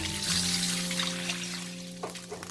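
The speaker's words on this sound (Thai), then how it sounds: "แล้วเติมน้ำลงไปเลยค่ะ" Water pours into a pot of textured soy protein while cooking a vegetarian rad na dish, a steady splashing stream lasting a couple of seconds over a faint steady hum, with no talking.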